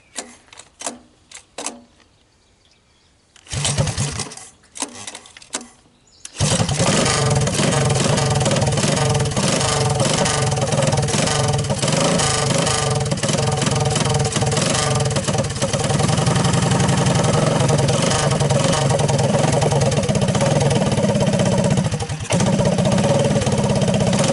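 A 1983 Honda ATC185S three-wheeler sputters through a few short bursts, catches and then idles loud and steady close by, with a single brief dip near the end.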